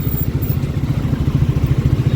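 Triumph Speed 400 motorcycle engine running steadily at idle, a close, even low thrum with rhythmic pulsing and no talk over it.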